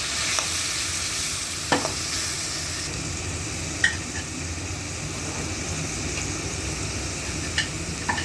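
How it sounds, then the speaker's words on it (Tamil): Chopped tomatoes sauté in a pan for pepper rasam under a dense, steady sizzle, with a few distinct knocks and scrapes from the stirring spoon. "அதை தக்காளியும் போட்டு நல்லா வதக்கி விடுறோம்."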